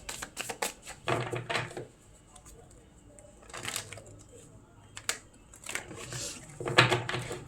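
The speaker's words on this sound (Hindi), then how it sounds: "let's shuffle the cards" Tarot cards are shuffled in several quick riffling bursts separated by short pauses, close and fairly soft, with brief crisp flicks and rustles.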